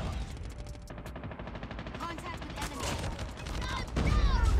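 Shotgun firing in the mobile game Call of Duty Mobile: rapid, repeated blasts in a dense rhythm with other gunfire around them, rising louder near the end, while a person speaks over the fighting.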